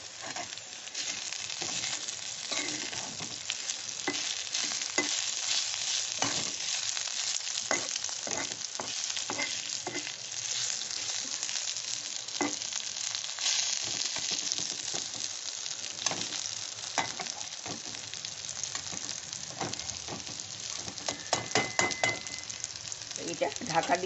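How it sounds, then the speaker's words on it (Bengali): Ivy gourd (kundru) with poppy seeds frying in a pan gives a steady, close sizzle throughout, broken by occasional clinks and scrapes of stirring, with no talking. "এখন আমি কুঁদরির সাথে মিশিয়ে ভেজে নেব।"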